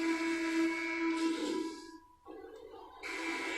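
A referee's whistle sounds in an NBA 2K21 game between the Golden State Warriors and Washington Wizards, a sustained tonal blast that breaks off and returns, heard alone without commentary.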